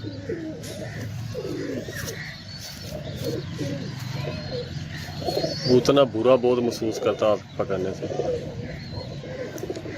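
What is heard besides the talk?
pigeon cooing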